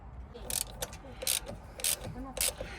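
A ratchet tightening a bolt on a bus gives four short bursts of rapid clicking in an even rhythm, close up, with brief pauses between strokes and a faint voice in the background.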